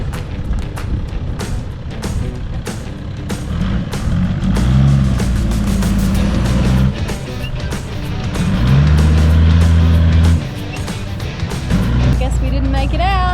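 Bus engine revving hard while bogged in soft sand on Cable Beach near Broome, a loud sustained drone that surges and falls in waves, with people talking over it.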